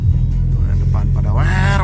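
Cars fitted with free-flow exhausts rumble and rev in a touring convoy, a loud deep drone with rising engine notes toward the end.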